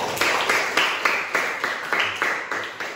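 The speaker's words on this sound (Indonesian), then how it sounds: "Tepuk tangan biasanya" Classroom clapping in a steady rhythm, about a dozen sharp, even claps from a small group of students over three seconds, fairly close and loud with no talking over it.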